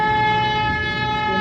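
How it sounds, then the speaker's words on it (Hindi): A long, loud, steady car horn blast sounds during a driving lesson, a single sustained tone that holds without a break. "ठीक है, लंबा हॉर्न दीजिए।"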